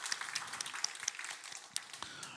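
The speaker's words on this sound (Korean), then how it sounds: "우리 박수로 한번 격려하도록 하겠습니다" A church congregation claps in applause, a loose patter of individual hand claps with a few sharper ones standing out, fairly soft and brief.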